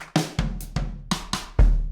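A Logic Pro X reggae Roots drum kit plays a short, sparse groove: a handful of close, punchy hits with deep kick thumps and snappy strikes, evenly spaced, with no voices.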